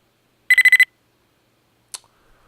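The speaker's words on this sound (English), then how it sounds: "Enemy spider. This is the alert sound when it wakes up." A video game's enemy spider robot sounds a short wake-up alert of five rapid electronic beeps, followed by a single brief high blip after a pause.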